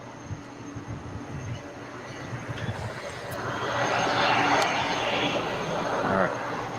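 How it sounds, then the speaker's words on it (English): An American Airlines Boeing 777 taking off on runway 25R at LAX, heard from a distance as a low rumble that builds into a louder, broad jet roar. "Looks like we have an American 777 about to take off on 25 right."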